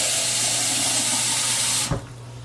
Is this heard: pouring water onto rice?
yes